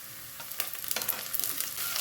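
Green chillies and curry leaves frying in hot oil in a pan, a steady close sizzle with scattered crackling pops and stirring, no voices.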